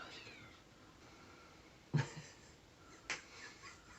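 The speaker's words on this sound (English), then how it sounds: "They're very noisy kittens." Kittens give a few faint, thin meows from nearby in a quiet room, and two short sharp sounds stand out partway through.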